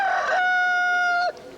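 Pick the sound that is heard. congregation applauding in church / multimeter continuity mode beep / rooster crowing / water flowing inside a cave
rooster crowing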